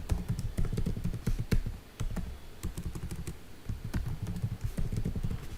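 Rapid keystrokes on a computer keyboard as a root account password is typed during a Debian 12.8 install in VirtualBox, a close, steady run of clicky taps with brief pauses.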